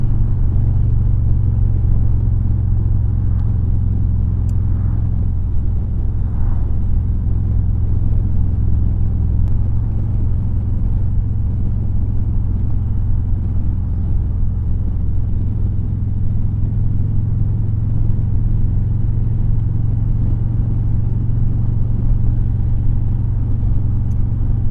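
A Harley-Davidson motorcycle rides on an open road with a continuous deep engine rumble and steady wind noise. The sound is loud and close throughout, with no talking.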